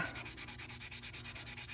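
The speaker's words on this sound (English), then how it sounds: "just kind of rotating this so I get a nice, even sanding" Rapid, even rasping strokes of sanding a plastic part of a Polar Lights 1/350 scale TOS Enterprise model kit, about eight per second, steady and close with no voices.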